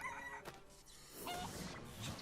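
Chicken clucking from the chicken coop card in the South Park Phone Destroyer mobile game, short bursts of clucks over busy game music and effects.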